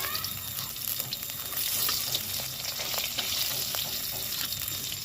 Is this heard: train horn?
no